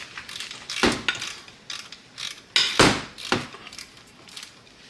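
A ratchet snugs up the lug nuts on a Nissan Altima race car wheel, giving a series of close, sharp metallic clicks and clanks in irregular bursts with no talking.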